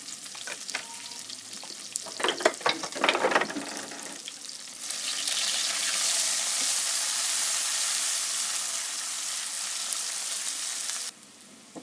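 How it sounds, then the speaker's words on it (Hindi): Onions frying in ghee in a pan for a village-style aloo matar curry. A few stirring clatters come first, then a steady, fairly loud sizzle holds for several seconds before dropping off near the end. "प्याज को लाइटली ब्राउन कर लेंगे"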